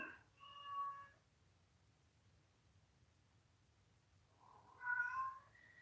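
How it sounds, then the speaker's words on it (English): A cat meows twice, a short call at the start and another a few seconds later, close and fairly clear over a quiet low background hum. "This cat."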